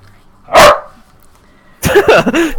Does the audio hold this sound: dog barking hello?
yes